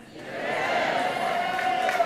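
A crowd at a university event at NC A&T raises a cheer, a broad swell of voices that rises within the first half-second and holds at moderate loudness with a few louder shouts near the end.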